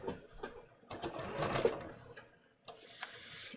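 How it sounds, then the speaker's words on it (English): A sewing machine stitches a bias-cut V-neck top seam in short, quiet bursts of rapid ticking needle strokes, pausing briefly and restarting, close and fairly soft. "So all I did was I literally just sewed on my 1/4 inch line."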